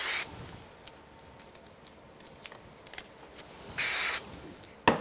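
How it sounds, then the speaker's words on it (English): Spray glue hisses from an aerosol can onto the backs of vellum cutouts for a craft umbrella project, two short close bursts standing out over quiet handling noise, with no talk. "I'm going to use some spray glue on the back of these."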